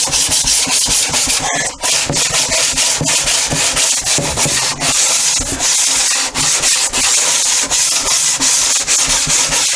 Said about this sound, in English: What I'm going to use now is 80 grit, and I'm going to flatten this top out, then I'll sand the side.